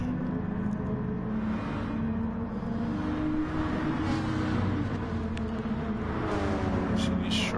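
A Ferrari Gr4 race car engine in Gran Turismo Sport at Monza, a steady loud drone holding high revs with a shifting harmonic whine throughout, mixed with a continuous low rumble.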